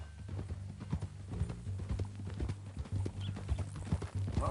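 Steady clip-clop of horse hooves at a walking pace in Red Dead Redemption, close and distinct, with a low rumbling background beneath.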